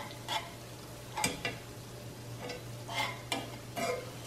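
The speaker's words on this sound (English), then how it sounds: "we're gonna add a heavy whipping cream. So you're gonna need a whisk for this" A whisk scrapes in rhythmic strokes through gravy in a pan as heavy whipping cream is added over a low flame. The swishes are soft and spaced, and a faint steady hum runs underneath.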